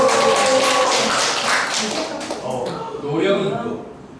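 An audience at a sustainability lecture claps together, a burst of dense, close hand claps that thins and fades out, with a voice speaking over it.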